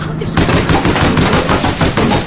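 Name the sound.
gunfire in the video game APB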